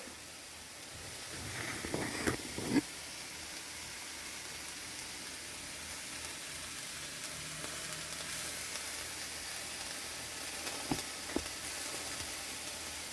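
Two sliced white onions sizzle steadily in a hot wok, a continuous even crackle with a few brief stirring clatters early on and no talking.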